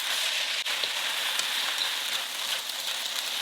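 Chicken filling with glass noodles, scallions, oyster sauce, hoisin sauce and white pepper sizzles in a stir-fry pan, a dense, steady hiss of frying heard up close with no voices.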